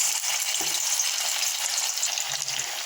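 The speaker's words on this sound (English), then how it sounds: "Now I will fry the fingers in medium to high flame for 3 minutes." Veg fingers fry in hot refined oil in a pan over a medium to high flame, giving a steady, close hiss and crackle of sizzling with a few soft stirring clicks and no talk.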